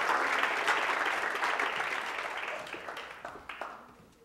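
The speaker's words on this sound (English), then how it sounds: "Another round of applause." Applause from an audience at an awards ceremony, a dense burst of clapping that starts loud and gradually thins out, ending in a few scattered claps.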